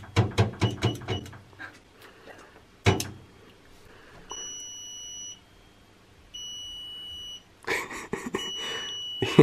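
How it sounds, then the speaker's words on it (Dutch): After a few sharp knocks and thuds, a high electronic alarm beeps downstairs in repeated long pulses, steady and fairly close, during a safe-cracking challenge. "Ik denk dat er een alarm beneden nu afgaat,"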